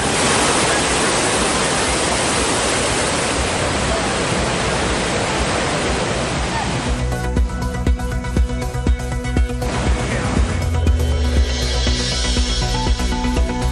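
Pykara waterfall in Ooty pours in a loud, dense, continuous roar that fills the first half, then gives way to a thinner, steadier rushing wash with faint background sounds.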